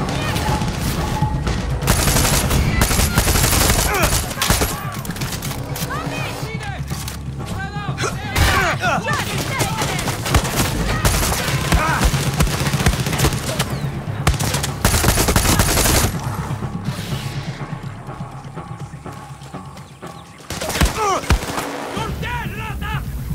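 Loud, near-continuous gunfire from the Far Cry 6 video game: dense bursts and sustained automatic shots with heavy thuds, running almost the whole time and easing off near the end.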